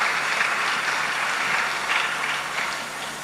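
A church congregation claps steadily and loudly, sustained applause filling the room with no voices above it.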